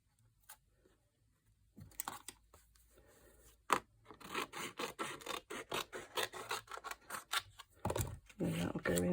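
Craft card for a gift box being trimmed, a quick run of short rasping cutting strokes that starts sparse and then settles into a close, rhythmic series of sharp scrapes.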